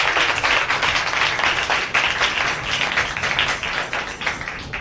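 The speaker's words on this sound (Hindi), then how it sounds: "आए पाक रूह के लिए जोरदार तालियां बजाएंगे" A church congregation claps loudly and steadily, a dense continuous wash of applause with no voices standing out.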